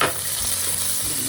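Chicken and onions fry in a hot pan, giving a loud, close, continuous crackling sizzle throughout the brief moment.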